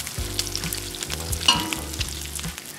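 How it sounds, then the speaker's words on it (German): Butter sizzling in a pan on a grill for Austrian Kaiserschmarrn, a close, crackling fry with a low rhythmic hum underneath and a few sharper spatters and clicks, no talk. "Und jetzt kommt ein bisschen Butter rein, einfach damit wir die Unterseite ein bisschen fetten."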